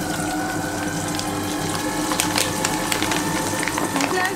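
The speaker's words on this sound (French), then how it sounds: "je vais verser le liquide dessus et ça va couler en fait" A water and oil mixture splashes and trickles steadily in a kitchen, close and continuous, with a few clinks and small knocks from the container midway.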